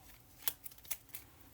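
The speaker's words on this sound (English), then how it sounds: "So done a wee shuffle there." Paper board game cards for a game titled EU The Ambitious Margrave are shuffled quietly in a few quick riffled bursts, faint and close with no talk.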